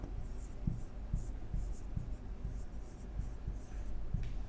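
Chalk or pen writing by hand during a math lecture on polar-coordinate equations, steady scratchy strokes with regular soft taps, close and continuous under a low room hum.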